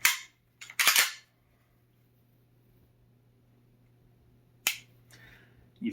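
A few sharp, close mechanical clicks from an HK USP pistol's trigger resetting: a pair in quick succession, a long quiet pause, then another single crisp click.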